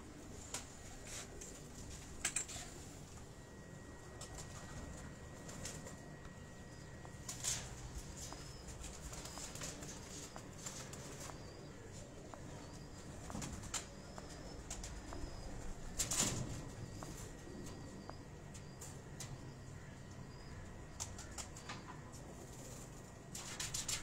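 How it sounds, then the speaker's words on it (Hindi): Ferozpuri pigeons on a rooftop loft, faint cooing and occasional wing flaps with sharp flutter bursts scattered through a quiet outdoor background. "अब ये फिरोजपुरी कबूतर जो हैं"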